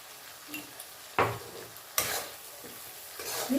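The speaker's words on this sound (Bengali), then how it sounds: "সর্ষেটা হালকা হাতে একটু কষে নেব বেশি ভাজা যাবে না" Mustard paste with salt and turmeric gently frying in a pan for a small-fish curry, a soft low sizzle broken by two sharp scraping stirs of a spatula, close up with no voices.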